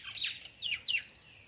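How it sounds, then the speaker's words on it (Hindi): Small birds chirp near a terrace in the Himachal Pradesh mountains on a quiet morning, giving three quick, fairly faint calls with short pauses between them. "मेरे टेरेस के पास पक्षी उड़ के आने लगे हैं।"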